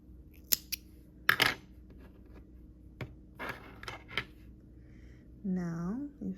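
Scissors snip crochet yarn after tying a knot while finishing a small crocheted heart, giving a few quiet, brief cuts and faint handling sounds near the mic, followed by a short voice at the end.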